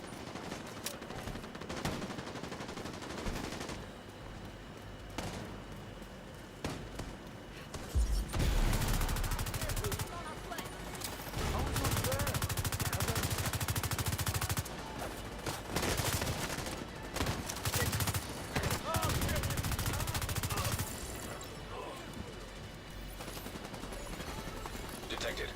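Turret machine gun in The Division 2 fires sustained bursts of automatic gunfire in several long stretches, mixed with other combat noise and game voice callouts.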